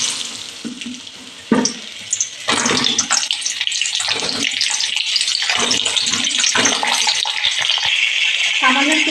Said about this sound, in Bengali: তেলটা আমার গরম হয়ে গেছে, এবার আমি পটলগুলো ভেজে নেব